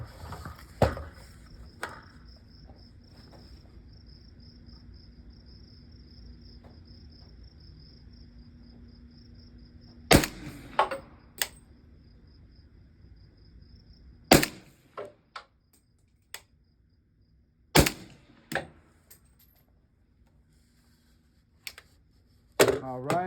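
A rifle fires Atomic 7.62x39mm 220-grain hollow point rounds outdoors, sending several sharp, loud shots at irregular intervals over steady cricket chirping.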